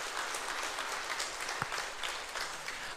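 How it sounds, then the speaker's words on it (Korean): Applause from a church congregation at a New Year blessing revival service, a steady, even wash of clapping throughout with no voices rising above it. "자, 영광의 박수 하겠습니다."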